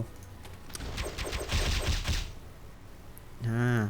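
A summoned ballista turret in the mobile MMORPG battle royale A3: Still Alive fires a rapid burst of arrow shots, a dense rattling volley for about a second and a half, followed by a pause and then a voice.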